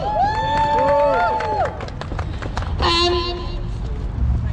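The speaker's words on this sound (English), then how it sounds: "Round of applause for my mum." Outdoor protest crowd in Swindon cheers and claps, with whoops and high shouted voices over a broad crowd roar, loud and continuous, with general babble underneath.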